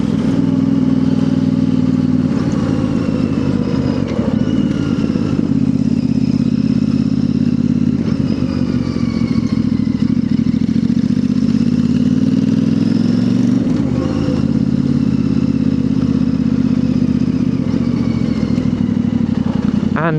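A Royal Enfield Interceptor 650 motorcycle with a new exhaust runs loud and close, its engine revving up and down in repeated surges with a throaty, continuous drone.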